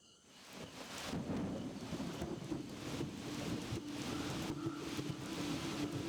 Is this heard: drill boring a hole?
no